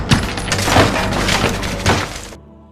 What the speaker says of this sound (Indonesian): menghancurkan kaca jendela